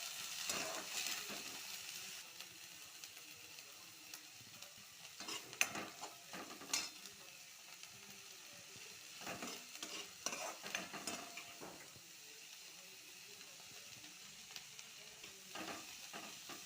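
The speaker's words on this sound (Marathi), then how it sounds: "हे झिंगे भाजून घेतले बघा मी थोड्या तेलात" Prawns frying in a little oil: a soft, continuous sizzle with intermittent scraping and clinking as a utensil stirs them in the pan, close but quiet, with no voices.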